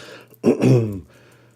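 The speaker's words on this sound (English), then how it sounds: "Don't be coughing into the mic." A single short throaty cough or throat-clear, close and loud, then quiet.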